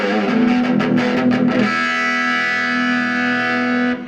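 A heavily distorted electric guitar through a Fender Vibro Champ XD amp plays a short riff, then a sustained chord rings out loud and buzzing until it is cut off.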